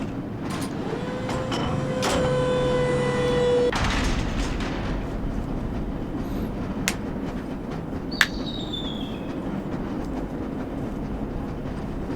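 A lever-controlled train in the video game Black Mesa rumbles steadily along, with squealing, tonal screeches and clanks over a constant low roar, then running on with occasional sharp clicks.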